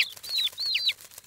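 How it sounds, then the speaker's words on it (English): Hungry cartoon baby birds in a nest chirp in three quick, high, bright peeping cries, close and clear with no talking. "Those baby birds look hungry."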